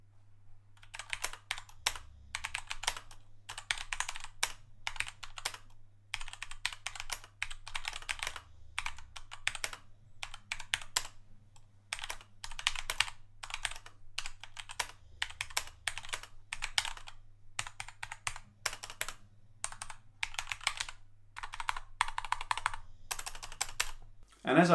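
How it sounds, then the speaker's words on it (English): Steady typing on a Keychron K2 mechanical keyboard with tactile Gateron Brown switches, dense bursts of clacky keystrokes close up over a faint low hum, no talking. "I really like that sound, that tactile feel. This one came with Gateron Brown switches."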